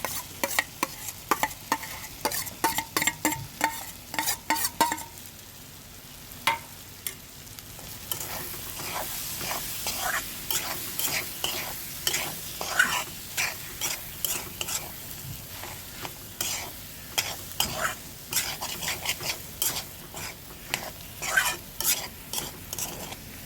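Mashed potatoes stirred and fried in a pan, with a steady run of sharp spoon scrapes and taps against the metal over a soft sizzle, close and fairly loud, no talking.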